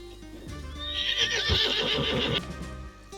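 A horse lets out a loud, close whinny lasting over a second, rising and wavering before cutting off, with faint hoof shuffling and low rumble beneath, in a frontier cowboy-era ranch setting.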